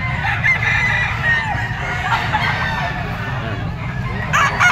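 A Red Kelso gamecock rooster crows loudly and close by at a gamefowl farm, its call rising over steady crowd murmur and background voices, with a brief spoken word.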